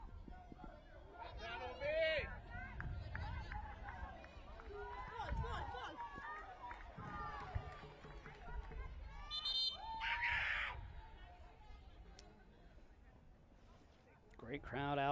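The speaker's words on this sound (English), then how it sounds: "Great crowd out once again here at Regional Jean Francisca Stadium in Willemstad, Curacao" Crowd noise at a women's under-20 Concacaf qualifier between Puerto Rico and Trinidad and Tobago at Regional Jean Francisca Stadium in Willemstad, Curacao: steady murmur with shouts and whistles, a commentator talking over it throughout.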